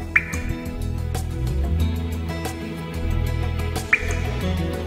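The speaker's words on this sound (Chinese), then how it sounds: "等了10秒，水龙头才滴下一滴水" A tap in Singapore drips slowly, giving two faint, isolated drops about four seconds apart over a low steady hum.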